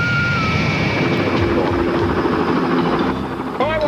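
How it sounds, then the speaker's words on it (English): A jet aircraft moving produces a loud, steady engine roar and whine that holds throughout, with a brief dip and a rising tonal sweep near the end. "the jet's moving"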